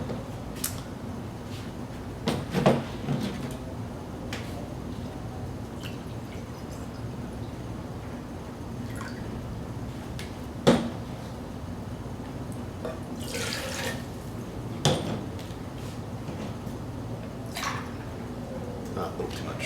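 Tap water runs into a measuring cup while a camp stove cooking demo is set up, a steady trickle punctuated by clunks and creaks from handling, with someone talking at times.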